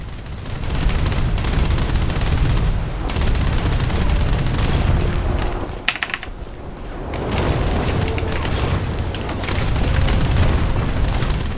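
Heavy, nearly continuous gunfire rolls during a War Thunder naval battle around an R-boat R-301 torpedo boat, with booming 20 mm cannon fire and a brief lull midway.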